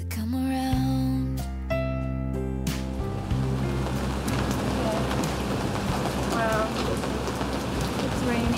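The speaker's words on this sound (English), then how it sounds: "Wow, it's raining." Steady rain pours down, a dense hiss of drops on surfaces, with music fading out at the start.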